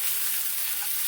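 Potatoes and onions sizzle steadily in a frying pan for a Spanish omelette, a dense, even crackle close by with no talking.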